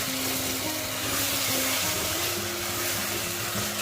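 Tomatoes sautéing in a pan for an egg gravy give off a loud, dense, continuous sizzle with a low steady hum beneath it, close up and without voices.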